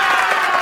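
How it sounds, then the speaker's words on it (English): A brief burst of crowd applause and cheering, dense and steady, with no gaps. "So, big round of canned applause for Christof Rampitsch, everybody."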